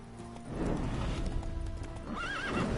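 A horse in the Witcher 3 video game clip-clops along with steady, close hoofbeats, then lets out a wavering whinny near the end.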